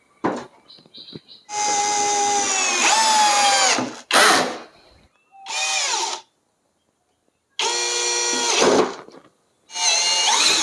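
An iMax cordless drill drives a screw into hardwood, revving in several loud whining bursts of a few seconds each, separated by short pauses, close up and with no talking.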